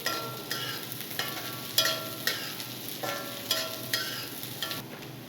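Cabbage stir-fries for restaurant-style veg fried rice in a hot pan, with a crackling sizzle punctuated by regular sharp scrapes and tosses, close and fairly busy.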